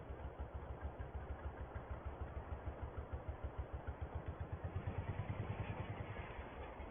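A tractor engine idling as it comes to a stop, a steady low rhythmic chugging that runs evenly and swells slightly toward the end, close and alone with no voices.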